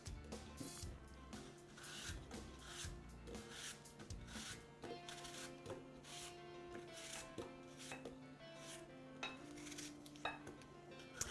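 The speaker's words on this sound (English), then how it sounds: "you can just slice them right into a medium-sized casserole dish" Apples sliced by knife into a medium-sized casserole dish, giving a run of soft, close cuts and light scraping knocks against the dish, fairly faint and steady with no talk.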